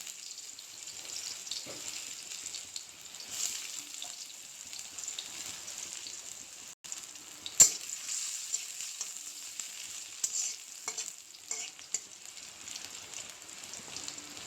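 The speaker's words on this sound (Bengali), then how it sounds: "তেলটা গরম হয়ে গেছে, এখন দিয়ে দেব পেঁয়াজ কুচি।" Chopped onions fry in hot oil, giving a soft, steady sizzle with scattered faint pops and one brief louder crackle midway. No one speaks.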